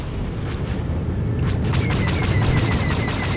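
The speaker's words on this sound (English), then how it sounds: "rocket pods, you fire and forget. They're dumbfire rockets." Starfighter rocket pods firing dumbfire rockets in Star Wars: The Old Republic space combat, a rapid string of sharp bright bursts in quick succession over a loud, constant engine roar.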